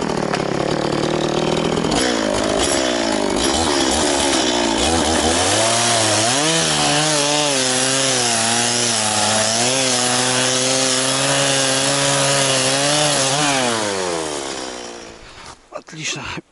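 A chainsaw with a worn chain cuts through a log at an autumn riverside campsite, loud and close. The engine revs up, holds a strained whine while biting through the wood for over ten seconds, then drops away and cuts off.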